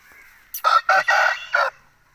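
A fighting rooster crows loudly and close by, one full cock-a-doodle-doo in several strong bursts, with no talking.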